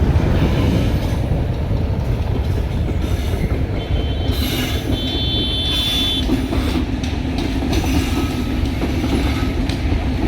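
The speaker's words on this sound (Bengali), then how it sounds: "এখান থেকে এই ট্রেনটি সরাসরি চুয়াডাঙ্গা চলে যাবে" A train bound for Chuadanga, Bangladesh rumbles steadily past on the tracks, a continuous heavy roar with brief high metallic squeals from the wheels partway through.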